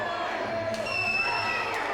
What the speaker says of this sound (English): The crowd responded and saw it.